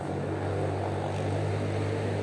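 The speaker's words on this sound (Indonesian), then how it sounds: "Banyak banget suara motor. Trek-trekan di atas soalnya." Motorbikes racing on a track above a pine forest in Bali make a loud, steady engine drone with a low, continuous hum that never lets up, and no voices are heard.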